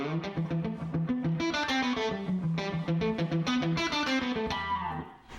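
A heavily distorted electric guitar plays a fast, picked metal riff with steady repeated notes, loud and close, with no voices.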